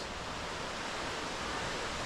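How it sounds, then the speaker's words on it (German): Santa Barbara waterfall in Chapada dos Veadeiros, Brazil, a steady broadband rush of falling water heard from a distance, faint and unchanging throughout. "Da ist der Wasserfall"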